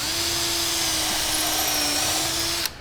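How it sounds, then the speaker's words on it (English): A power drill whines steadily as it bores pilot holes through wood for the main bolts of a sim racing rig, one continuous close run that cuts off abruptly near the end. "you can drill a hole in a piece of wood or in 2 pieces of wood that fast"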